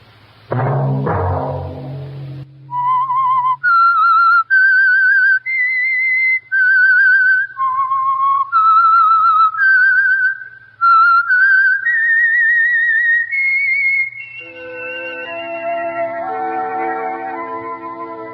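A clear whistled tune of about a dozen sustained, wavering notes, fairly loud, followed by a swelling orchestral chord.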